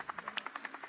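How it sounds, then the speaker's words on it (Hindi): A helicopter in a zoo keeper video game beats its rotor in rapid, evenly spaced thuds, about ten in under a second, faint and alone. "हेलीकॉप्टर,"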